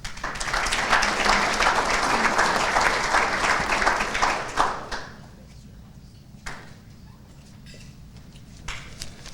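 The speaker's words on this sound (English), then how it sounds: "Apparently, if I just mention Ohio State, I at least get a little applause." A Rotary meeting audience claps in a dense burst for several seconds, then the applause thins out to a few scattered claps and thuds as it dies away, with some murmuring underneath.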